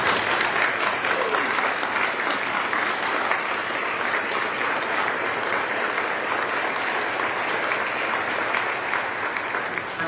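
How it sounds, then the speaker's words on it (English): Sustained applause from a large audience at a memorial celebration for Winter the dolphin at Clearwater Marine Aquarium, a dense, steady clapping that stays loud and even for the full ten seconds with no talk over it. "I'd like to give them a big round of applause."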